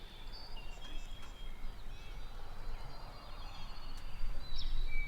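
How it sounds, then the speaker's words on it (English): A wild turkey gobbles in a Kentucky spring woodland, a faint rattling call amid outdoor ambience and rustling, fairly distant and without talk. "Did he just gobble again?"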